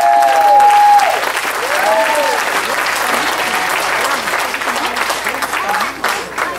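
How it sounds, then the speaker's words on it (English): A church congregation claps hands together in a loud, sustained burst of applause that carries on throughout, with singing voices woven through the clapping. "Somebody, clap your hand."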